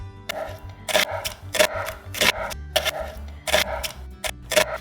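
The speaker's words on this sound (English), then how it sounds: "Now we're going to chop our 2 large onions that we peeled previously." Two large peeled onions are chopped on a board, a brisk series of sharp knife strikes in an uneven rhythm, roughly a dozen close, crisp chops with brief pauses between bursts.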